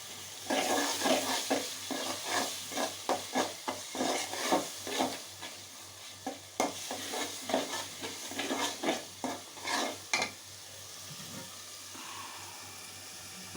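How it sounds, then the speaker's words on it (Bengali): Chopped tomatoes sauté in a pan, a busy wet sizzle broken by repeated scraping stir strokes that come in bursts, close and fairly loud, with no voices. "টমেটো কুচি সব একসাথে কষানো হবে।"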